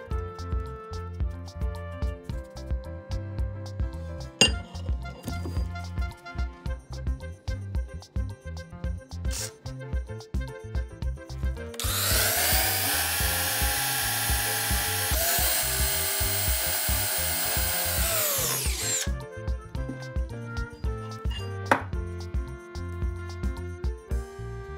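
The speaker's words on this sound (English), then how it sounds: "For this, we use a regular metal drill." Regular metal drill boring small holes in a steel axe blade, a high whining burst lasting several seconds with a sustained pitch in the middle, set between quieter clinking and handling noises.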